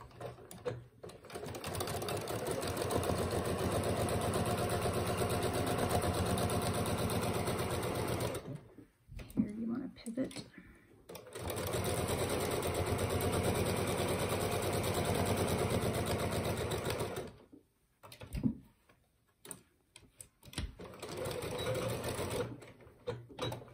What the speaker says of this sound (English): you're going to sew that line with a 1/4 inch seam